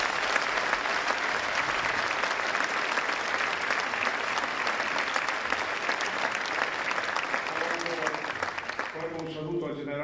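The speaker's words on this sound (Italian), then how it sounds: "ringraziarla con un fortissimo applauso" A large concert audience applauds a minister, a loud, sustained burst of dense clapping that fills the hall before fading, with a voice speaking as it dies away.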